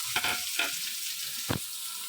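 Chopped shallots dropped into hot oil with mustard seeds and curry leaves for a beetroot stir-fry, giving a few short bursts of close sizzling over a steady frying hiss, with no talking.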